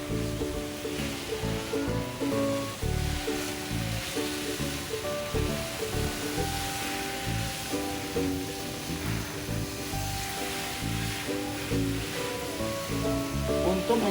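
Fine water spray from a multi-mode spray nozzle hissing steadily over potted aroid plants, continuous and fairly loud, with a dense pattering wash under a steady tonal background for the whole stretch.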